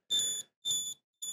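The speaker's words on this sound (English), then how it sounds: "Stop beeping." An EcoFlow RIVER 2 portable power station, taken apart for testing, gives three sharp, loud high-pitched beeps in an even rhythm, the last one cut short, with silence between them.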